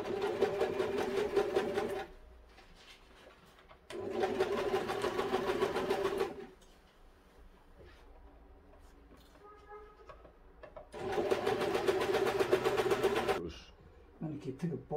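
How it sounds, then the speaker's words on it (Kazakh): A sewing machine stitches clothing in three loud, rapid bursts separated by quieter pauses where faint handling and background sounds come through, with no one speaking during the stitching. "Қазір өшіп тігіп шығамын."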